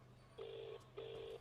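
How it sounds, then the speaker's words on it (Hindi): A telephone call is placed in a Hindi-dubbed feature film, with two evenly spaced electronic ringing tones heard faintly through the line. A low steady hum runs beneath them. "एक मिनट, मैं एक फोन कर लेता हूँ।"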